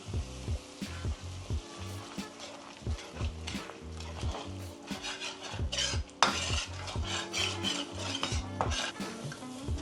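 Coconut cream and green curry paste stir-fried in a pan for Thai green curry, with a steady sizzle and rhythmic scraping of a spatula against the pan, backed by music.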